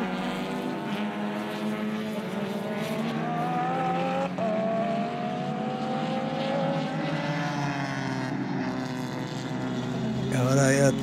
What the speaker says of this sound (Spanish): Y ahora ya todo el mundo estaba con el duelo de Fuchs en el Audi y Villa Gómez